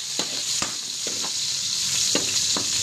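Garlic and onion sizzle steadily in a pan as a spatula scrapes and stirs in a few sharp strokes, close and fairly loud, with no talking.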